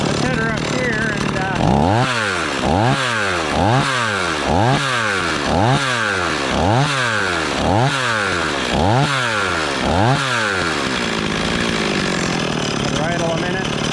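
A rebuilt STIHL 026 chainsaw revs up and down in about ten steady, evenly spaced bursts, loud and close, before settling back toward idle.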